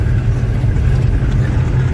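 A car engine drones steadily and close while driving along a road behind another vehicle it is trying to overtake, a continuous low rumble without talk.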